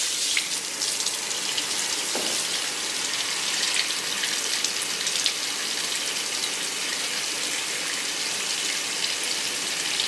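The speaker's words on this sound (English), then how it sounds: "I'm gonna rinse this out for 5 minutes" Water from a salon rinse spray pours steadily through hair to wash out a perm, a dense continuous close splashing hiss with no talking.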